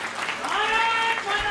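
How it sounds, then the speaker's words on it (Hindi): An audience at a Hindi comic poetry gathering (kavi sammelan) claps to welcome a poet, a brief, continuous burst of applause with a voice sounding over it. "मैं आपकी जोरदार तालियों के साथ आमंत्रित करता हूं, इटावा से गौरव चौहान"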